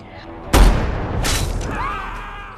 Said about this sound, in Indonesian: dari jarak jauh Swagger menembak pergelangan tangan Jack